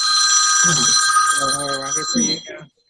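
A telephone bell rings in bright repeating bursts, then gives way to muffled movement and a brief murmur before falling silent.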